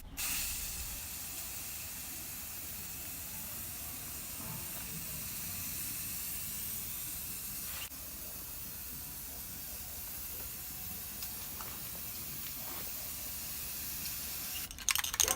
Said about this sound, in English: Now it's time for the clear coat. You want to spray this one exactly the same,